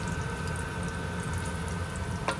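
Pork frying in a pan for carbonara, a continuous hissing sizzle with a low hum beneath, close and steady, ending in a brief clink.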